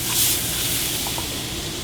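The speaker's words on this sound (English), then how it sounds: "Now a hot saute pan with a little bit of extra virgin olive oil." A loud, steady hiss of zucchini sizzling in a hot sauté pan with olive oil, broad and continuous with a brief surge at the start.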